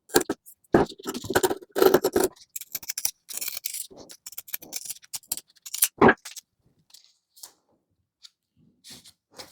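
Scissors cut through pinned felt fabric pieces for a frog hooded towel in a series of crisp, close snips and scrapes. The snips come in irregular bursts separated by short pauses.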